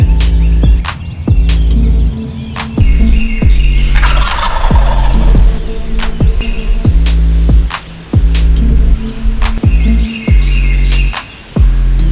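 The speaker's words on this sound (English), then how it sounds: "He's right up here. He's gobbling a lot." A wild turkey gobbler gobbles repeatedly in Georgia timber, loud and fairly close, with sharp rattling bursts punctuating a steady low hum across the whole stretch.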